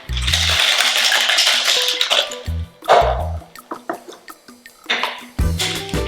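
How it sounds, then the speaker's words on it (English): Ice rattles hard inside a cocktail shaker full of honey lemonade, in loud shaking bursts separated by pauses, over steady background music. "I'm going to shake this up. Get it super cold."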